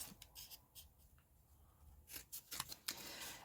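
Scissors cutting cardboard pieces for a cardboard dollhouse fireplace: soft, close snipping and rustling in short bursts, sparse at first and then quicker and louder near the end, with no voices.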